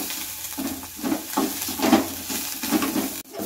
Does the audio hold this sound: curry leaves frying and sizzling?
yes